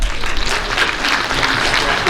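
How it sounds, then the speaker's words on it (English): A crowd at a school district Teachers of the Year ceremony applauds a honored teacher, loud, dense and steady clapping filling the whole moment without a break. "we applaud Mrs. Head for all that she's did"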